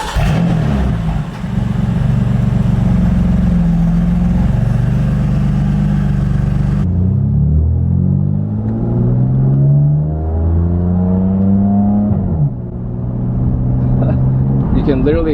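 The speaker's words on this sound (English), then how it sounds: "You can literally hear the turbo spooling up and down" BMW M3 turbo fitted with an Active Autowerke single mid pipe exhaust, loud engine drone rising and falling with whooshing turbo spool sweeps, close up and sustained.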